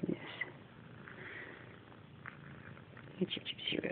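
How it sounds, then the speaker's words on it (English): A cat purrs close by in a steady low rumble, with soft rustling and a few brief higher squeaky sounds toward the end. "Gypsy Rose is purring up a storm, so she must really be enjoying this."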